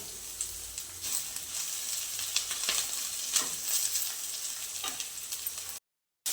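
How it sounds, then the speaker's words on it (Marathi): Ginger, garlic and two green chilies roasting in a pan for rajma masala give a steady close sizzle with scattered crackles and stirring scrapes, broken by a short silence near the end. "याच्यामध्ये लगेचच मी अद्रक लसूण आणि दोन हिरवी मिरच्या टाकते हे पण आपल्याला याच्यामध्ये भाजून घ्यायचे"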